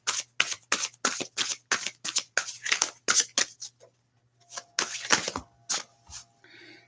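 Tarot cards being shuffled and drawn, a rapid run of crisp riffling snaps and slaps close by, then a brief pause before a second burst of shuffling and a light card flick.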